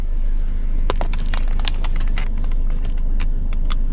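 A car rolls along with a steady low engine and road rumble, dotted with brief clicks and rattles from inside the cabin, close and continuous without speech.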